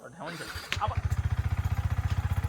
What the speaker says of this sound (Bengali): ও বাইক স্টার্ট দিচ্ছে